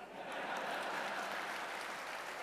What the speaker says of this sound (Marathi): आणि बघा किती टाळ्या वाजल्या तुम्ही।